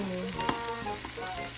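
Garlic frying in oil in a pan while cooking pork sinigang, a steady close sizzle with a few clinks and scrapes from stirring.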